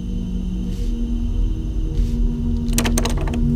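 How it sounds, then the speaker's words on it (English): A locked door is tried in the Cry of Fear horror video game. Two faint soft bumps come first, then a quick burst of sharp metallic rattling clicks from the handle, close over a low droning ambience. "The door is locked."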